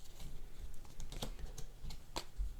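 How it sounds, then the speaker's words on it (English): A card deck is shuffled by hand during a solo tabletop playthrough of the deck-building game Eminent Domain, heard as close, quiet, papery riffling and tapping with a few sharper clicks and no talk. "So I will shuffle my deck"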